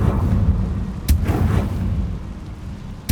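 The Confringo blasting spell from the video game Hogwarts Legacy explodes in a sharp burst, with another blast at the very end over a low rumbling background.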